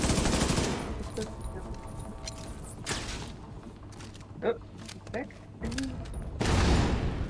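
A gun turret fires bursts of automatic gunfire in the shooter game The Division 2, loud and close at first, then fading to scattered shots, clanks and mechanical creaks.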